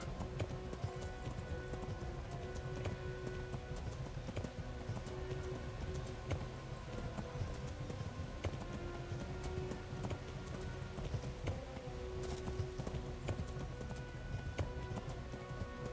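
Steady rhythmic hoofbeats of a galloping horse in the video game Kingdom Come: Deliverance run continuously over a dense background, even and unbroken throughout.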